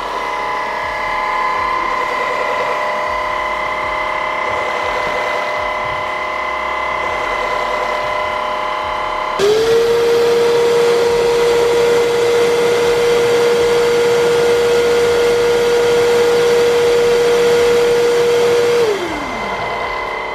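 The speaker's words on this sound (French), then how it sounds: "maintenant on va procéder à l'auto-nettoyage de la brosse" A vacuum cleaner hums steadily, then a louder motor whine kicks in as its brush runs a self-cleaning cycle, holding for about ten seconds before winding down.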